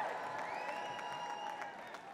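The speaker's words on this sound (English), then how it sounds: "You guys are a great crowd." A convention crowd applauds and cheers at a Republican National Convention, a dense, loud roar of clapping with rising whistles and shouts that eases slightly toward the end.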